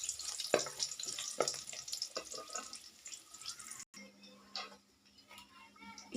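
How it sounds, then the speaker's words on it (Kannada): Curry leaves and garlic paste fry in a pan over a stove as they are stirred, a soft sizzle with a few scraping stirs, quiet and close, alongside a faint watery hiss. "ಇಲ್ಲಿ ಮಿಕ್ಸ್ ಮಾಡ್ಕೊತಾ ಇದ್ದೀನಿ ನೋಡಿ."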